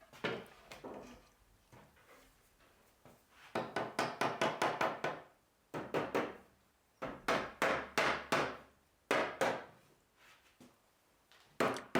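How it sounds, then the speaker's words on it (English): Rubber mallet tapping wooden dowels into organ casework for a three-stop continuo organ, heard as bursts of rapid close knocks on timber, in quick clusters of five or six with short pauses between. "So just a little tap with a rubber mallet is all you need."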